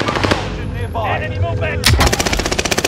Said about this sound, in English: They're shooting walls on me.